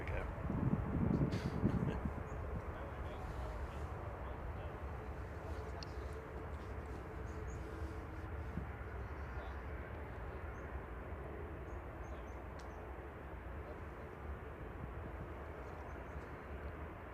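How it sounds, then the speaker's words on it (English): A propeller aircraft takes off from a runway at Manchester Airport, its engine a steady broad roar that holds evenly for the whole stretch, with a voice talking briefly near the start. "Is this prop going to get off the runway?"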